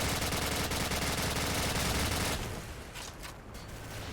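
Sustained suppressing gunfire in the video game Modern Warfare rattles as loud rapid automatic bursts for about two seconds, then fades into quieter echoing shots and ambience.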